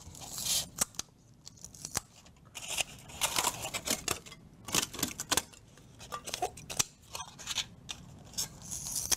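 Scissors snipping through thin styrofoam plates, repeated crisp cuts and crunchy tearing in an irregular rhythm, close and fairly loud, with no talking.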